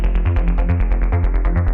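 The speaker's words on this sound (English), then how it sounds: "at the moment our bass sounds like this" Synthesized sub bass and mid bass from an electronic music mix play a steady repeating pattern, deep sustained low notes pulsing in rhythm with brighter upper harmonics, loud and alone with no voices.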